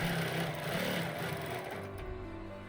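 A sewing machine stitching a quilt with ruler templates, a steady fast whirring hum held close and even, easing slightly toward the end with no talk.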